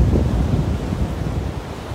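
Ocean surf washing in at a beach at Garden City, a steady low rumbling wash of waves mixed with wind buffeting the microphone, continuous and fairly loud with no voices.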